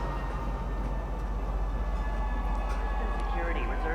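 A train in the video game Star Citizen rumbles steadily with a low drone and faint high whines throughout, continuous and fairly loud, with a voice heard faintly over it.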